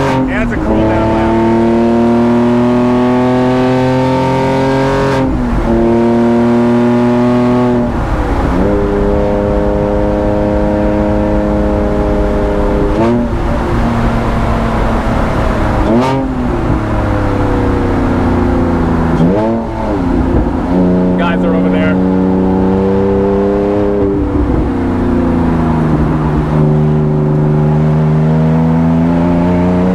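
A straight-piped Lykan Hypersport on a race track cool-down lap, its engine droning loudly and steadily, rising through gears and falling back repeatedly, with a person speaking briefly over the constant roar.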